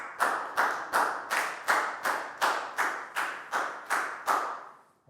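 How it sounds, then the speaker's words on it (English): A Year 4 maths class claps for a student, ten even bursts of group applause in a steady rhythm, nearby and clear, fading on the last clap. "Big round of applause for Nadia"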